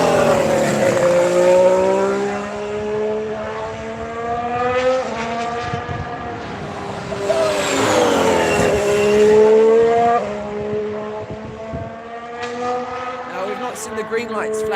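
Loud high-revving Haas Formula 1 car engine during testing, with rising and falling harmonic pitch as it passes and shifts, voices talking over it throughout.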